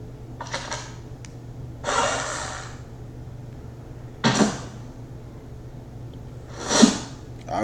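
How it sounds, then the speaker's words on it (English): A bow and arrow sound effect plays as a series of short, sharp whooshing bursts and a few soft rustles, spaced a second or two apart, fairly faint and close, with no talking. "that was the sound of bow and arrow"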